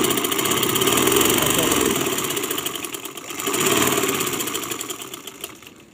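A sewing machine stitching a buttoned sleeve, its motor whirring steadily and close for the whole stretch, easing slightly midway before picking back up.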